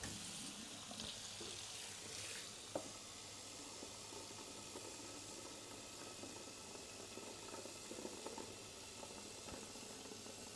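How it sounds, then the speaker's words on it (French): Tap water runs steadily into a cooking pot in a home kitchen, a continuous close hiss and splash with a few small clanks, no talking. "On va aller remplir ça d'eau un peu."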